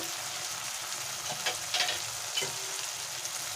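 Chili powder and turmeric powder fry in oil for an old-style Bengali chicken curry, giving a steady close sizzle with a few brief scrapes of stirring and no talk.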